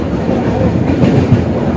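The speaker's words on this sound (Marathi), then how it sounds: "आता पंचवटी ट्रेननी इथे सातची ट्रेन होती पंचवटी ट्रेननी बसलो आहे" The Panchavati passenger train travels from Nashik toward Mumbai, heard from inside the coach as a loud, continuous low rumble with faint wheel clatter.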